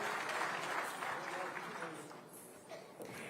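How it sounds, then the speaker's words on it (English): Applause following a dance and drama performance at an armed forces honouring ceremony, a soft, distant, continuous crowd clapping that slowly tapers off. "Let's put our hands together for a thunderous round of applause"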